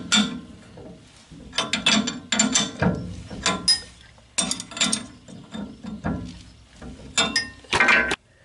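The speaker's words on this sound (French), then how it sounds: "Alors je serre les 4 boulons qui vont tenir mon espèce d'outil là." A hand ratchet tightens four 10 mm bolts during rear axle reassembly on a Citroën Traction 11B. The ratcheting comes in close, loud bursts separated by short pauses, with metallic clinks.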